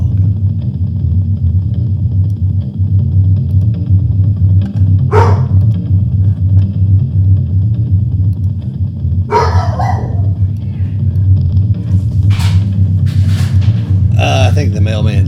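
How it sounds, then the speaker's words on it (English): A dog barks in a few separate short bursts against a steady low hum and background noise, somewhat distant. "And there goes my dog."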